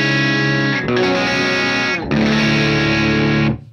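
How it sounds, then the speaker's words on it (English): Distorted electric guitar played through a Mini Marshall Plexi amp simulation with no pedal, three loud sustained chords that ring and cut off sharply at the end, with no talking. "That's the Plexi by itself without the pedal."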